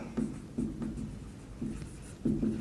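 Pen or marker writing on a board or paper while code is explained, a few short scratchy strokes in bursts, close and fairly quiet, with no talking.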